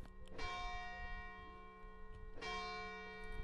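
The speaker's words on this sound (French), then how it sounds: "il entendit la cloche de l'église annonçant la messe" A village church bell rings for mass, two resonant strikes about two seconds apart, each leaving a long, humming decay in a quiet setting.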